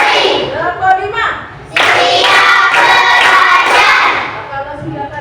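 Loud rhythmic group clapping from a classroom of students, a dense sustained burst of hand claps running for a few seconds, with a teacher talking before it and some voices continuing as it fades.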